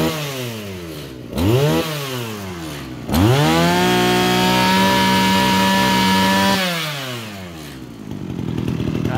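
Kawasaki TG28 small two-stroke engine revved hard twice, each rev climbing to a loud, sustained high-pitched buzz before dropping back to a rough close idle.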